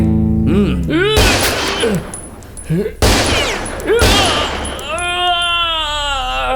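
Gunfire in an action film: several sharp, loud bursts of shots ring out in quick succession amid shouting and wailing voices, close and heavily layered with music.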